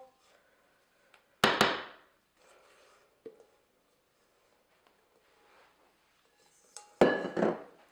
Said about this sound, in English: Scrape that out of your bowl.